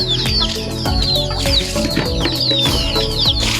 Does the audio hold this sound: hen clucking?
yes